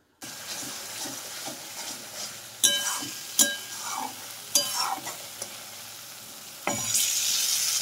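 Tomato paste frying with chilli powder, coriander powder and turmeric in a pan, a steady close sizzle with a few sharp spatula scrapes, ending in a louder hiss, with no one speaking.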